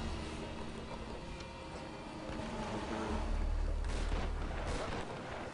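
Gunfire in a Tomb Raider (2013) multiplayer match, including a shotgun blast, heard as distant booming shots over a steady rumbling game soundscape with a heavier low boom midway.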